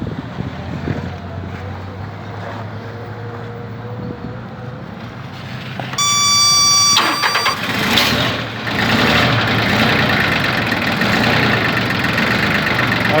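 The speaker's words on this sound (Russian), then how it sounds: "Отлично завелся трактор, отлично работает." A Mitsubishi MT1401D four-wheel-drive Japanese tractor's diesel engine cranks with a loud whine, catches and settles into a steady, close, rumbling idle outdoors.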